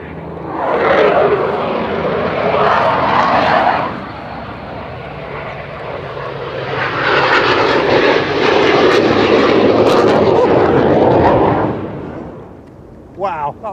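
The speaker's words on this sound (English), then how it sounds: "There's a jet and the Spitfire together." A Eurofighter Typhoon jet and a Spitfire fly past together at an RAF display team show over a river, their loud engine roar swelling, dipping, then building again as they pass overhead and fade.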